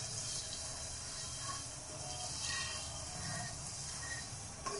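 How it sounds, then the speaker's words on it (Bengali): Spice paste of ginger and garlic sautéing in a pan for a raw mango pickle, giving a steady, close, faint sizzling hiss throughout with occasional stirring sounds. "মশলাটা এইভাবে কিছুক্ষণ কষাতে হবে, 5-7 মিনিট।"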